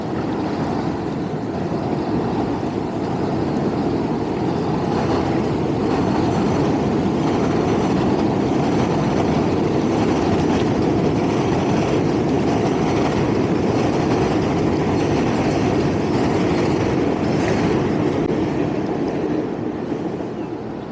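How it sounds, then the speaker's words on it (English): A train rumbles steadily across a bridge over the Harlem River in New York City, a loud continuous roar with faint rhythmic clatter throughout, no voices. "Train going over the bridge."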